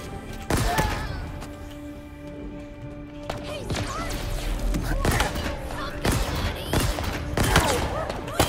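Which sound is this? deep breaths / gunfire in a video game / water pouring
gunfire in a video game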